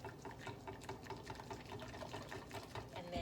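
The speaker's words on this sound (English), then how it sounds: "Give this a stir." Whisk or spoon stirring vegan pancake batter made with almond milk, a steady rhythmic wet slapping and clicking against the bowl, close and continuous with no talk.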